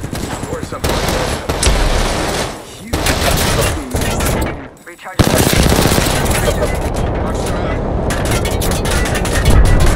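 Automatic weapon fire in the Apex Legends video game, with loud sustained bursts and rapid rattling volleys over most of the stretch and a brief lull near the middle. A voice talks over the shooting.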